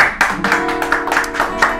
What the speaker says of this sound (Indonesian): Kita berikan tepuk tangan sama-sama buat Tuhan kita Yesus.